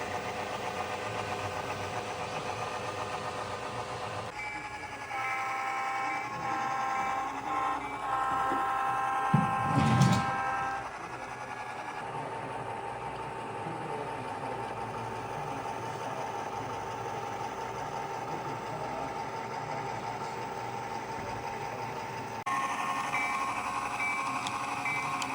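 An HO scale Athearn Canadian Pacific FP7 model locomotive runs light with no cars, giving a quiet steady electric motor whir with a faint tonal hum and one brief knock partway through.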